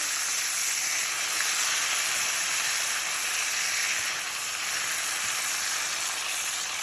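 Food for mangu, a Dominican dish, left to sit and simmer in a pan, giving a steady, even hiss and soft sizzle that holds unchanged throughout, close by with no talk.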